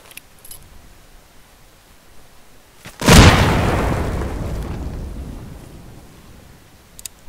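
A frag grenade detonates in a military video game set during a MAC-V SOG operation, one loud, deep blast that rolls out and decays slowly over several seconds after a quiet lead-in, with no talking.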